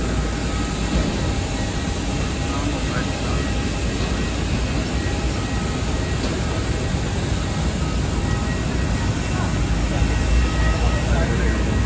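Steady loud roar of airplane engines heard from inside the cabin, a continuous broadband drone that fills the space without pause.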